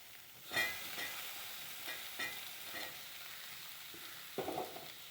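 Boiled jackfruit seeds are stirred into a frying pan with bean leaves, a steady soft sizzle broken by several scraping strokes of the spoon and a few light clinks.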